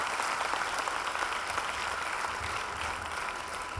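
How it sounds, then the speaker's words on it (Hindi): Audience at a stage play in Madhuban welcomes the play's creator with loud, dense applause that stays steady and unbroken, filling the whole moment with no voices over it. "उनका जोरदार तालियों से स्वागत।"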